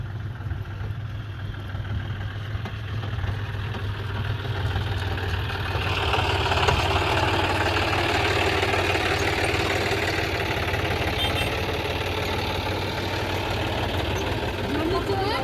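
A tractor engine runs with a low, steady throb throughout, growing slightly louder midway, with voices talking over it.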